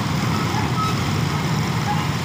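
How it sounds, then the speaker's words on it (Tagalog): Heavily loaded truck labouring up a steep road, its engine droning low and steady, with a faint intermittent reversing beep over road traffic noise. "Hindi siya makaalis yung truck kasi mabigat yung dala niya."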